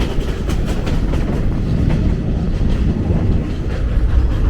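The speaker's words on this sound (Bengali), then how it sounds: "12টার সময় ট্রেন ছাড়লো শেষ হয়ে" Inside a second class passenger train in Africa, a steady, loud rumble of wheels on track fills the carriage, with faint rhythmic clatter of the cars running continuously and no voices.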